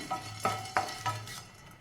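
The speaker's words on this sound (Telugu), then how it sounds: "మూడు యాలకులు ఒక ఆరేడు లవంగాలు ఇవన్నీ కొంచెం దూరగా వేపుకుందాము" Cardamom pods, cloves and peppercorns dry-roasting in a pan, stirred with a spoon: light scraping and rattling strokes, close and quiet, over a soft steady background hiss, with no talk.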